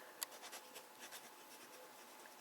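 A fine pen scratches across paper in faint, steady strokes of De Atramentis Ochre ink, soft continuous scritching with one sharper tick near the start, close and quiet with no voices.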